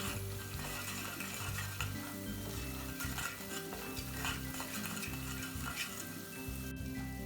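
Tomato paste sizzles and fries in a pan for tarhana soup, with steady loud crackling and repeated scraping stirs of a utensil against the pan throughout, no voices.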